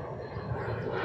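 An airplane flying overhead gives a steady, loud, broadband engine roar that fills the whole brief moment without a break.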